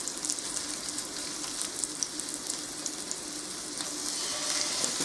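Homemade venison sausages and nitrite-free bacon frying in a pan, a steady close sizzle and crackle with small pops, continuous throughout with no voices.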